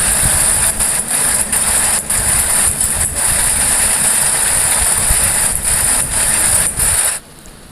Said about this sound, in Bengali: তো দেখো আমি চারধারটা সেলাই করে নিচ্ছি।